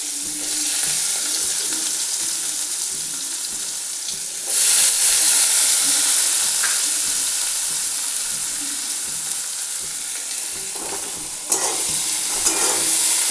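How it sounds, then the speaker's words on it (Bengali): Onion sizzling in hot oil with panch phoron while cooking a Bengali fish curry with potato and pointed gourd, a steady close frying hiss that swells louder when stirred, with a sharp clatter near the end. "পেঁয়াজটা একটু লালচে করে ভাজবো।"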